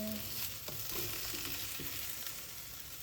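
Fish fries in a pan with a soft continuous sizzle and a few faint scraping and tapping stir sounds, close but quiet.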